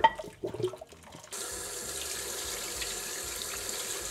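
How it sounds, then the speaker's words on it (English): A kitchen tap runs cold water over boiled bones in a sink, opening with a few splashes and clatters before a steady, fairly quiet stream of running water settles in. "Now we're going to drain it and then wash it in cold water."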